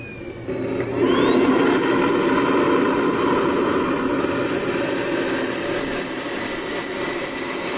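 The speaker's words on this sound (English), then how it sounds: "obviously it's a jet. It's a real jet. It sounds like a real jet." A model jet aircraft turbine taxiing around a parking lot runs loud and steady, a whining tone sweeping upward over a broad roaring rush that holds constant throughout.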